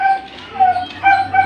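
Several dogs kept as a household pack bark and whimper with short yips and whines in bursts, close and fairly loud, over a low steady hum.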